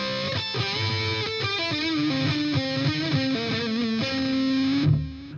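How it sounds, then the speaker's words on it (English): A heavily distorted electric guitar plays a riff with overdrive, its notes smeared with buzzing, ringing unmuted string noise and a messy, dirty edge throughout. "all the unwanted noise and dirt that you get while playing with overdrive and distortion"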